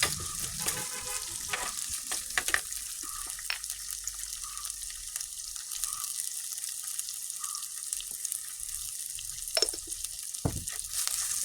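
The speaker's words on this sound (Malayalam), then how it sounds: "സവാള ഇട്ട് കൊടുത്ത് ഒരല്പം ഉപ്പും കൂടി ഇട്ട് ഒന്ന് വഴറ്റുക." Sliced onion with a pinch of salt sautéed in a pan, soft sizzle under scattered scraping and clattering of a spoon, close and fairly quiet, with no voices.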